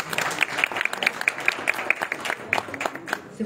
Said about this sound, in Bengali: এই মুহূর্তে একটা জোরে করতালি প্রত্যাশা করছি।